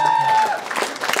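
At a Kazakh wedding bride-welcoming ceremony, guests break into brief, scattered clapping right after a short sustained tone fades, the applause lasting only about half a second.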